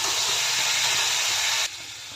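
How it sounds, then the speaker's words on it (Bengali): Vegetables with spices sautéing in a pan, being stirred down until soft for a fish curry; a steady loud sizzling hiss that drops abruptly to a quieter sizzle near the end, with no talk. "মশলাটা দিয়ে কিন্তু ভালো করে কষাতে হবে"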